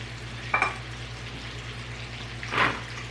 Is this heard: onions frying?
yes